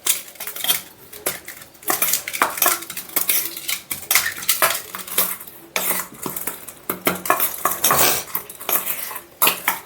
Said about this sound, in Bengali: মশলাটা মিক্স করে নিচ্ছি।